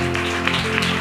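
A church congregation claps hands in thanks, a steady wash of applause from many people, fairly loud and continuous over a low background hum.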